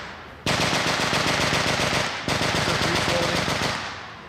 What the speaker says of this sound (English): We have the Maxim machine gun running in the back.